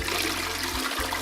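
A toilet flushing, a loud rushing gush of water that is close and fills the whole short moment, heard on its own.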